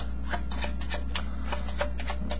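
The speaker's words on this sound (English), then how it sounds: "they take the final packet, shuffle it up a little bit" Quick riffling flutters of playing cards being shuffled by hand, a rapid series of soft papery snaps close by.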